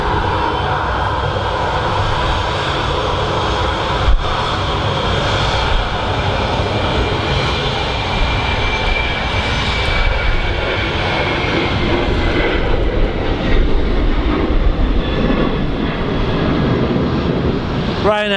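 A Ryanair airliner departs Manchester Airport, its jet engines giving a loud, sustained roar that swells and fades slowly across the whole stretch, with a little conversation in the background.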